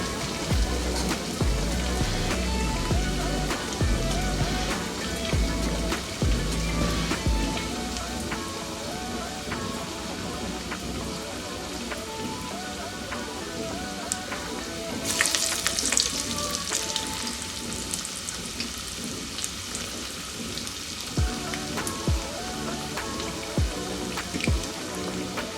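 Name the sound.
deep frying lima bean masala vada in oil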